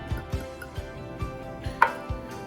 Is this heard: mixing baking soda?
yes